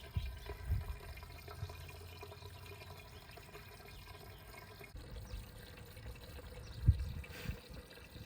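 Water pours in gentle, uneven splashes into a homemade self-watering flower pot freshly planted with Supertunias, quiet and close with a couple of soft knocks.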